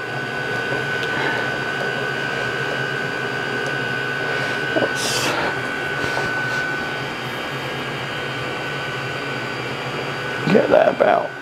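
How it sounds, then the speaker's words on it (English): A milling machine's end mill cuts off the sidewall of a narrowly clamped workpiece, giving a steady droning whine with a constant high tone and a few scraping clatters near the end. "end mill in there at the moment, using it on the sidewall to cut it off"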